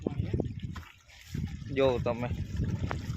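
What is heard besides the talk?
water flowing from a well pipe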